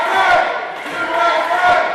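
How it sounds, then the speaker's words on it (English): Loud crowd at a professional wrestling match cheering and roaring in support of a wrestler, a full arena swell that dips briefly and rises again, with a chant-like tonal edge. "Listen to this crowd get behind Kevin Stryker."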